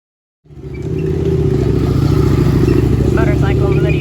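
A motorcycle engine at the Fort Worth Stockyards starts up after a short silence, then holds a loud, steady, throbbing idle with a deep rumble and a faint clatter.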